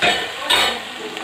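A sizzling tadka is stirred into beef nihari in a pot, a short, bright hiss and scrape that swells twice before fading.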